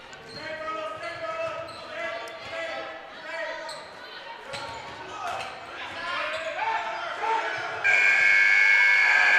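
A loud, sustained buzzer sounds to end the quarter in a girls high school basketball game, cutting in near the end over gym crowd noise, ball bounces and commentary.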